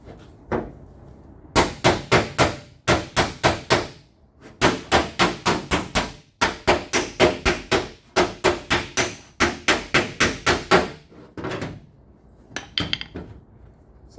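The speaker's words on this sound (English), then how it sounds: "So I'm going to use the hammer to" A hammer strikes steel to level it against a flat surface in a garage, with rapid, ringing blows in rhythmic bursts of several hits, pausing briefly between runs.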